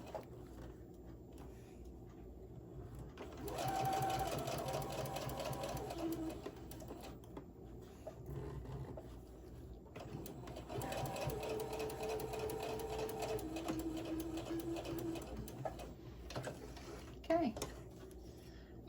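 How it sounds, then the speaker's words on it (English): A sewing machine stitches along the bottom of a crossbody phone pouch in two steady runs of rapid mechanical chatter, separated by a pause, with soft handling sounds in between. "Let's get this under the machine and carefully just sew this up right along the bottom."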